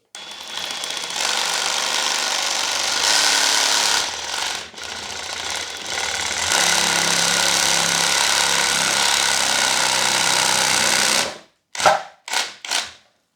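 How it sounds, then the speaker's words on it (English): A Recipro power carving tool fitted with a metal bit grinds into trident bonsai root wood, a loud, steady high-pitched mechanical buzz running for about eleven seconds before cutting out, followed by a few short bursts. "try the Recipro with this metal bit on it and see what happens"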